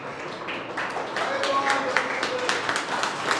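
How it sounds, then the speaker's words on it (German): A small round of applause from a school audience, scattered claps building briefly and staying fairly light, with a voice talking over it. "kleinen Applaus"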